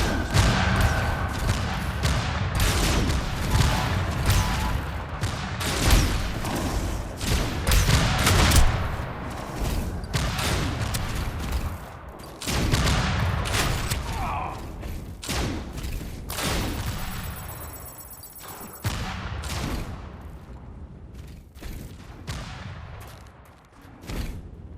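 Gunfire from a sniper in the video game Tribes 3: repeated sharp, loud thumping shots at irregular intervals across a busy, noisy game soundscape, with no talk over it.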